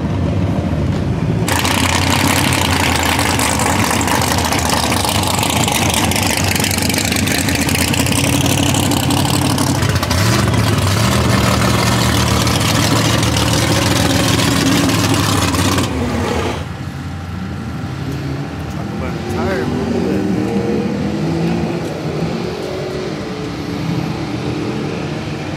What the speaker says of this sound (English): I've recorded this Porsche before